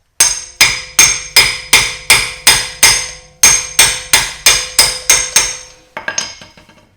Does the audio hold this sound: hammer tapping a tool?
yes